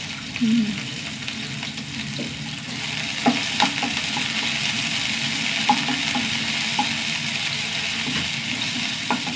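Sliced small onions and curry leaves fry in a pan, giving a steady, close sizzle broken by the clicks and scrapes of a stirring utensil.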